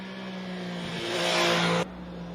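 An MV Agusta Stradale 800 motorcycle engine revs up toward high rpm with a rising rasp, swelling louder for about a second before cutting off abruptly, no voices present.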